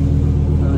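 Lamborghini Huracan engine rumbling at a supercar gathering, a brief, loud, steady low drone close by.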